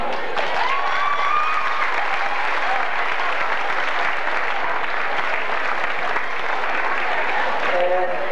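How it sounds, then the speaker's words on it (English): Loud, sustained applause from a large crowd after an under-14 Gaelic football league final, steady clapping filling the whole stretch with a few faint whistles mixed in. "give a big round of applause to two gallant teams"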